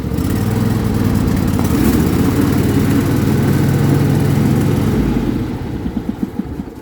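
A riding mower's engine roars loud and close as the cutting deck engages, holding a steady revving drone before bogging down, sputtering unevenly and dying toward the end.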